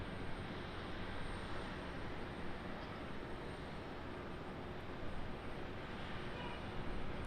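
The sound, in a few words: aircraft auxiliary power unit (APU) running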